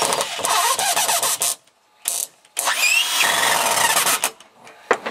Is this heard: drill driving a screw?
yes